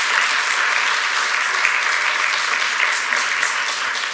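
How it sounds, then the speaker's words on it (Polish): Studio audience on a television quiz show breaks into sustained applause, a thick continuous patter of many hands, loud and steady throughout with faint voices underneath. "Wielkie brawa, świetnie."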